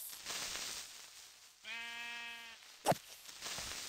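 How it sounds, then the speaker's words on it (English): A single sheep bleats in a video game, a clear wavering cry lasting about a second over quiet game ambience, followed shortly by a brief thud. "There's so many sheep here."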